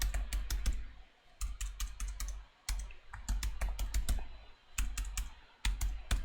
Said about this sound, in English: Let me just type it out a minute.